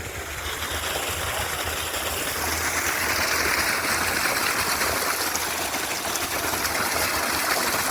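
Water gushes steadily from an irrigation pump outlet in a coconut garden near the Cauvery, a continuous broadband rush with a low engine-like hum beneath, close and unbroken throughout.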